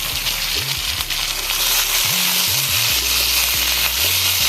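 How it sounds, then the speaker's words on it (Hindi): Potatoes and taro pieces fry in a pan with a steady, loud sizzle throughout, broken by a few low stirring scrapes and thumps. "तो इसको हमें अच्छी तरीके से उसको फ्राई करना है"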